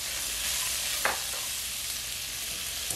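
Sausage and ham fry in a greasy pan for Chinese-style fried rice, giving a steady close sizzle with a brief stir and crackle partway through, with no voices.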